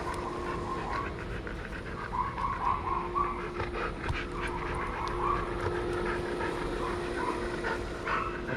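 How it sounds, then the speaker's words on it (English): Dogs bark in the distance, a few faint, scattered barks over steady outdoor background noise. "dogs are barking over there"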